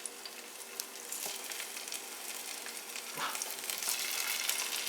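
Sausages fry in oil in a pot with a continuous crackling sizzle, broken by a few sharper pops, that swells slightly toward the end; it sits close and alone, with no speech.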